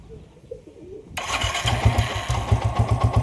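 An old motorcycle with a weak battery is started: after a quiet lead-in with faint bird calls, the engine catches abruptly and settles into a loud, rapid idle chug.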